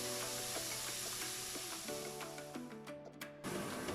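Tofu and vegetables, carrots and onions among them, stir-frying in a hot pan for egg fried rice: a steady sizzle with scattered scrapes and clinks of a utensil, brief quieter dips, then a louder burst of frying near the end.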